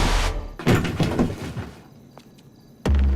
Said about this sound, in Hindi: दरवाजा तोड़ना पड़ेगा।